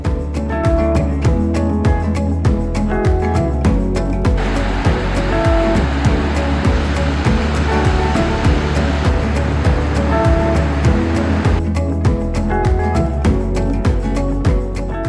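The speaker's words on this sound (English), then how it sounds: "The river rushes through a narrow rocky channel" A loud, constant rush of water roars without pause, broad and close, a New Hampshire river churning through a narrow rocky gorge.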